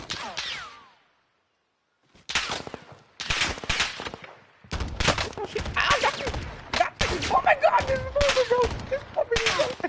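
Gunfire in a Call of Duty match, rapid bursts and single shots firing in dense clusters, close and loud, with voices talking over the shooting.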